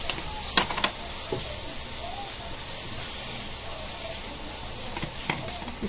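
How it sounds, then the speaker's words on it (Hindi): Spices, turmeric and chicken masala roasting in a pan, a steady soft sizzle and hiss running throughout with a few brief clinks of a spoon stirring. "अच्छी खुशबू आने तक भुनेंगे"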